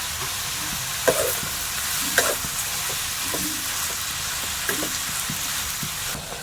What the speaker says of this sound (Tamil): வெங்காயம் தக்காளிலாம் நல்லா வதங்கிடுது